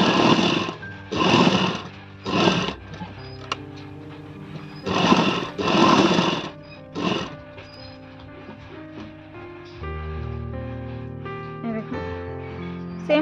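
A sewing machine stitches tacks on a bra-cut blouse in several short bursts of whirring, each a second or so long, separated by pauses, followed by a low steady hum with tonal music underneath.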